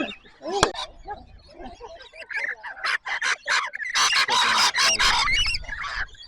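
A parrot calls loudly during feeding on a walking trail at Cania Gorge. Its harsh squawks and screeches come close and repeatedly, growing into a burst of raucous calls, with other birds chattering and faint voices nearby.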